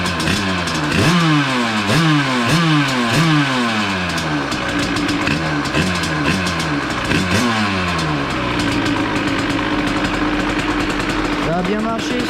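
A small 86cc two-stroke motorbike engine freshly rebuilt with a new piston, revving in repeated sharp rises and falls before settling into a steady high idle, loud and close with no talk.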